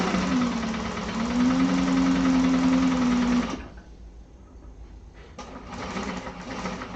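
A sewing machine runs a reinforcing seam through thick vinyl lining for a satchel, a loud steady hum for a few seconds, then a brief pause and a quieter restart; no talking.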